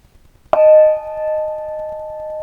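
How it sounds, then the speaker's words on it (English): A tuned nickel silver bossed gong by Steve Huback, modeled on old Paiste tuned gongs, is struck once, giving a sharp attack and a pure, piercing bell-like tone that rings on steadily at a loud level. "this is a tuned Bossed Gong by Steve Huback, and it's sort of based on the old Paiste tuned gongs"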